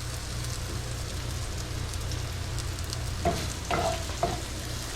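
Sweet potatoes and vegan sausage frying in a pan make a steady, even sizzle, joined near the end by a few scraping and stirring scuffs, with no talking.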